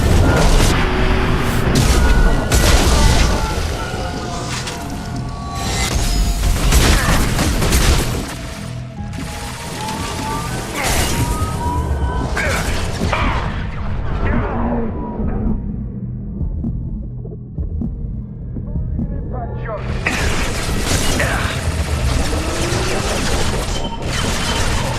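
Loud, dense game battle from Mass Effect 2 aboard the Collector Ship, with booming impacts, crashes and rumbling blasts packed together, a brief lull in the middle before the chaotic firefight surges back.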